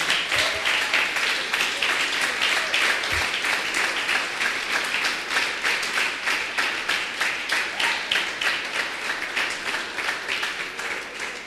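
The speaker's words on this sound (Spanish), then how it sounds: "Denle un aplauso grande al Señor Jesús." A church congregation applauding, sustained dense clapping from many hands with a steady rhythmic pulse, loud and filling the room, no talk over it.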